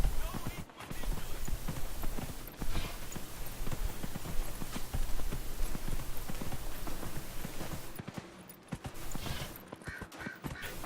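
Horse hooves clip-clop at a gallop in Dragon Age Inquisition, a steady rapid rhythm running nearly throughout, fairly close and loud, with a couple of brief dropouts and a voice speaking at times.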